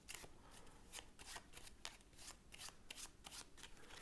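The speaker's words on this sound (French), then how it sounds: "Donc, il va mélanger le paquet de droite." A spectator shuffles a deck of playing cards during a close-up magic trick, giving a steady series of crisp riffling bursts at a moderate level, with no one talking.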